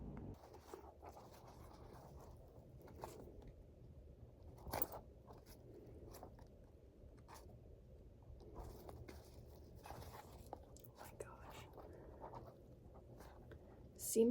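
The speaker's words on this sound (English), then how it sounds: "I'm gonna get started with ripping the seams out of my harness" A seam ripper picks and tears through the stitched seams of a retired climbing harness, giving faint, close scratching and small snapping pulls at an uneven pace against a quiet room.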